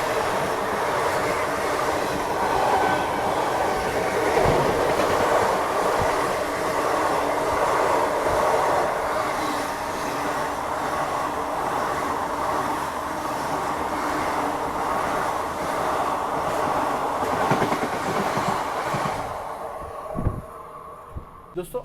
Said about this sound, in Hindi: दोस्तों अभी जो ट्रेन क्रॉस हुई थी वो थी Jabalpur Bandra festival special express